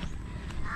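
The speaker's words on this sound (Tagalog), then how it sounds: "May uwak." A crow gives a single harsh caw, close and loud, over a steady outdoor background hum.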